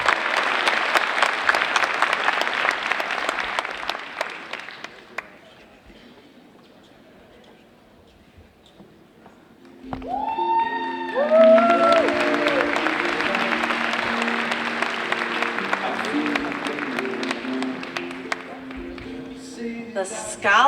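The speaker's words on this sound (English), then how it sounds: "a round of applause for the 2025 Carthage Mahone Foundation Access Award recipients" An audience claps for scholarship award recipients at a ceremony. Broad applause runs for about five seconds, fades to near quiet, then a fresh round swells up alongside a rising musical tone and continues loudly to the end.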